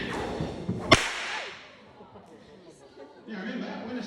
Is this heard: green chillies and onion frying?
no